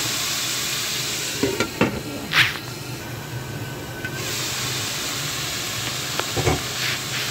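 Bitter gourd with oyster sauce sizzling steadily in a pan while a utensil stirs it, with several scraping clacks and bursts of hiss over a constant frying bed.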